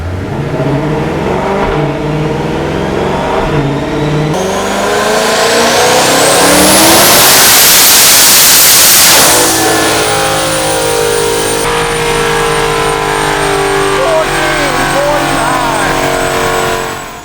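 A turbocharged CX1600TT engine on a dyno pull at 24 PSI boost roars loudly as it revs steadily upward to a screaming peak, then drops off and settles into a lower idle with a turbo whine.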